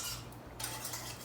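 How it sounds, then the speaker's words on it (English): A utensil stirs lemon pie filling in a pot over medium heat on the stove, a steady close scraping and clinking of metal against the pan that runs without a break and with no talking. "we're just going to continue to stir this, and it will eventually thicken"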